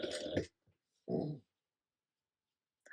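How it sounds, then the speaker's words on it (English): A pet dog gives two short snorting, pig-like grunts close by, a longer one followed after a pause by a second, with near silence between. "My dog is oinking and scared himself."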